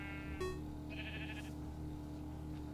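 Sheep bleating in the Minecraft video game, a single short synthetic bleat with bright harmonics near the start, followed by a fainter second call, set over a steady background hum.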